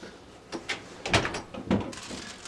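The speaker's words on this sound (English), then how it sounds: "Gonna have to close the door." A door is moved and shut indoors, giving a few soft knocks and a firmer thud, fairly close and without talk.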